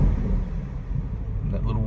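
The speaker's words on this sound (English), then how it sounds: "that little whoosh, and that's really what we're buying intakes for. We want the look, we want the intake sound." A 2017 Chevrolet Camaro ZL1 fitted with a Rotofab intake gives off a low engine rumble with a soft intake whoosh rising near the end, heard close up for about two seconds.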